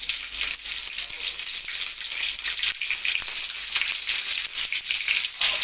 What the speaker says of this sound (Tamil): சட்டி சுட்டதும் எண்ணெய் வச்சுட்டு கருவேப்பிலை விடணும்